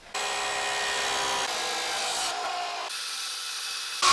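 A power tool saws through a 1967 Pontiac Firebird axle to shorten it, producing a loud, steady grinding whine that shifts in pitch partway through and cuts off near the end.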